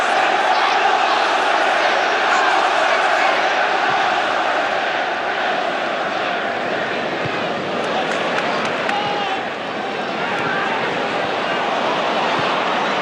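A football stadium crowd roars at a scoring chance during the 2003 Manchester City versus Arsenal match, a dense, loud, continuous wall of massed voices that holds for the whole stretch with only a slight dip near the end.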